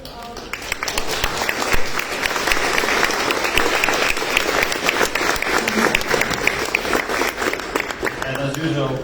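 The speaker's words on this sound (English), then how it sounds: "So please help me to make a round of warm applause to our" A hall audience at a panel discussion in the Danish Parliament's Fællessalen gives a long round of warm applause, thick and even throughout with no break.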